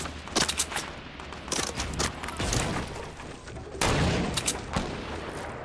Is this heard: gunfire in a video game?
yes